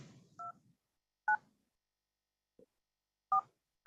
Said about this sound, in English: Enter your meeting ID followed by pound.